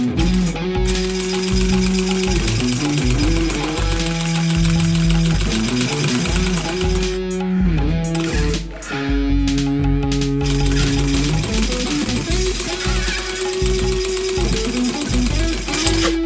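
A small vertical compressed-air engine runs continuously at close range, producing a steady mechanical chatter with changing tonal whines, briefly dipping near the middle before resuming, with no talk over it.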